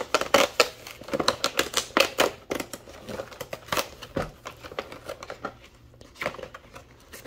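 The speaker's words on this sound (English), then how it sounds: "It looks like we've got a little pre-portioned area that you can tear off very neatly." Packaging of an LOL OMG Surprise doll being torn open along a pre-portioned strip, heard as a close run of sharp crinkling rips and snaps in uneven bursts, with no talking.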